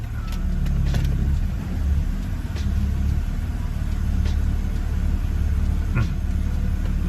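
A BMW E90 idling steadily in reverse gear, a loud continuous low engine rumble close by with faint ticks and clicks on top, nobody talking.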